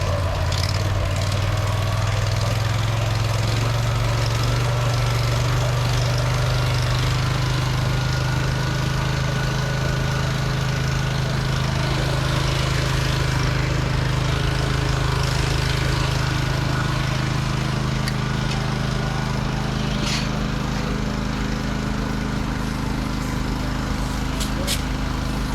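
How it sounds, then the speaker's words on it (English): The pump engine of a Daisy Mountain Fire and Medical brush truck runs and is throttled up to about 100 PSI, a loud continuous engine drone with a rising hum close by. "So you'll throttle it up to about 100 PSI."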